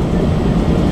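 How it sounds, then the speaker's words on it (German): Passenger wagon of a regional train hauled by a Br245 diesel locomotive between München Ost and Mühldorf, heard from inside as a steady, loud, continuous rolling rumble with no breaks. "Der Sound, das ist der Wagensound."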